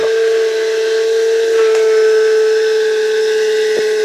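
A small bullet mixer grinds fruit into juice, giving a loud, steady, high-pitched motor whine that holds unbroken from start to finish.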